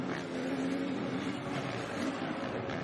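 Beta SDM Corsa motocross bike racing in an MXGP race at Trentino, its engine a steady, continuous drone at a distance with no clear revving peaks.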